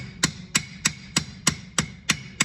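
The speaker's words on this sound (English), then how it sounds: "I can actually use my peening side to help me move the material a little bit faster." Ball peen hammer blows peen a rivet on a frame handle, eight sharp, evenly spaced metallic strikes ringing out in a quick steady rhythm, close and loud with nothing else heard.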